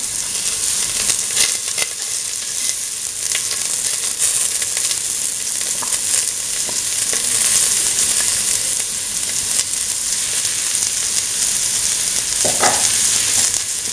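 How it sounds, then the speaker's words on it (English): Onion pieces and fennel seeds sauté in a hot pan for a lentil carrot stew, giving a loud, steady sizzle with occasional stirring scrapes and no talking. "Saute the onion pieces and the fennel seeds until the onions take a pinkish color."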